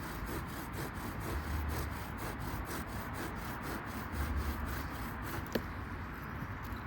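Wooden bow drill spindle rubbing in a bearing block during a friction fire attempt on a wet February day, a steady rhythmic back-and-forth sawing scrape that repeats continuously up close, with one sharp click near the end.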